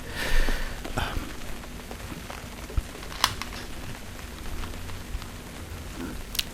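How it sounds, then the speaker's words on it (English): Soft, patchy patter of rain falls on a tent on a stormy night, with a few sharper taps and faint rustles, no talking. "waiting for the rain to stop"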